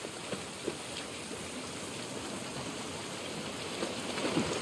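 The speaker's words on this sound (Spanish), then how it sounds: "El detalle del agua, la lluvia." Steady rain falls in the video game The Last of Us Part 1, a soft, even hiss of rainfall and water with a few faint patters, fairly quiet throughout.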